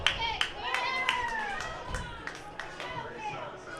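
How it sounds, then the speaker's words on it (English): Home crowd at an American Legion baseball tournament game in Wyoming clapping and cheering after runs score, scattered hand claps and crowd noise over a murmuring background, with a voice talking over it. "as you can hear, the home crowd is loving those runs coming through"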